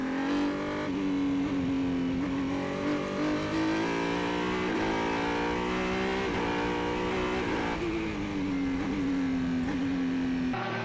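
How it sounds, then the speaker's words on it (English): A Lola race car in the Formula BOSS Ireland Championship at Mondello circuit, squealing its tyres as the engine holds a loud, sustained, wavering tone for the whole stretch with no talk over it. "Peter Dwyer is next, and he's squealing the tyres in the Lola."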